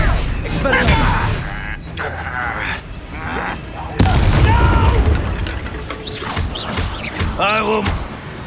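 Spells cast during a Hogwarts Legacy duel crack and boom in quick bursts, sharp blasts landing among whooshing effects, with shouted voices throughout the fight.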